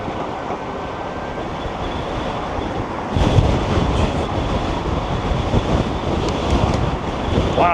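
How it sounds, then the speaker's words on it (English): Strong wind roars across the microphone during a bicycle commute in Chicago, a constant loud rush that surges harder partway through and then keeps buffeting. "Wow, that's crazy windy."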